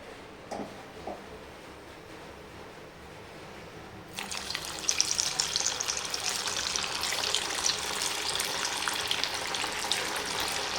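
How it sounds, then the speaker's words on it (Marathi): Sabudana vadas drop into hot oil and break into a loud, bright, continuous sizzle after a few quiet seconds of faint kitchen noise. "आता तळून घेते लगेच तेल पण छान तापलं आहे"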